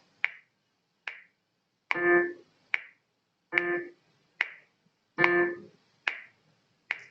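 Short, clipped keyboard notes sound one after another, each cut off quickly, with a few slightly fuller tones mixed in and silence between them.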